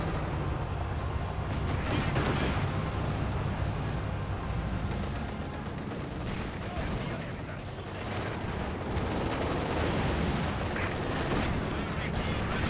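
Tank battle in Company of Heroes 2 between a Soviet T-70 and a German Panzer IV, with loud, repeated cannon and gunfire bursts and explosions over a rumbling battlefield bed, continuous and close.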